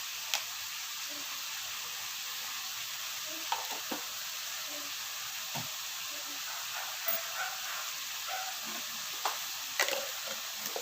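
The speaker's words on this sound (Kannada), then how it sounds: "ಈಗ ಸಿಗಡಿ ಫ್ರೈ ಆಗಲಿ, ಕಲರ್ ಚೇಂಜ್ ಆಗಲಿ, ಬೇಗದ ಫ್ರೈ ಆಗ್ತದೆ." Prawns frying in a pan, a steady low sizzle running throughout with scattered soft clinks and stirring taps, no voices.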